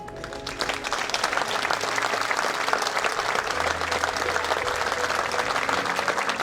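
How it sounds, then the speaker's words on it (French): Sustained applause from the crowd at a Camargue bull race (course camarguaise) in Raphèle-lès-Arles, steady and dense clapping that fills the whole stretch without talk over it. "Je demande s'il vous plaît en piste des applaudissements pour Amélie et Grégoire Logier."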